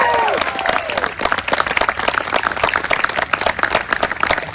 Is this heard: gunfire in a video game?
no